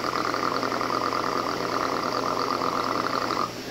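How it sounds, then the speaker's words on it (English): A tractor engine runs at a steady, close, fairly loud idle with a rhythmic knocking pulse, dropping slightly in level just before the end. "Tractor."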